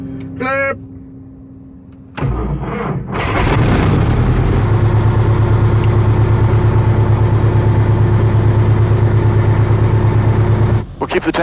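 A small tail wheel airplane's engine starts after a short pause and settles into a loud, steady idling drone while it taxis slowly, with brief speech before it and a change in tone near the end.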